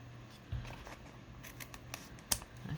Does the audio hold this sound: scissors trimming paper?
yes